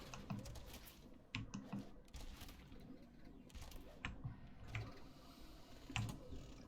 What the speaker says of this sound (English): the cling cling cling of my keyboard